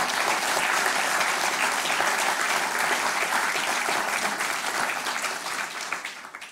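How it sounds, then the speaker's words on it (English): Full, steady applause from a conference audience for Michel Camdessus at a G7 Bretton Woods gathering in Paris, sustained throughout and fading slightly at the end. "I would like you to applaud once again Michel Camdessus."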